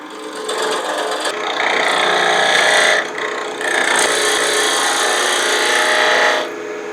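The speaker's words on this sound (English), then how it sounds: "I'm going to go switch to a detail gouge so that I can get in there with a pretty sharp point" A detail gouge cuts a wooden box on the lathe, giving a steady scraping, rasping hiss that swells and eases in a few long passes, close and fairly loud, with no talk.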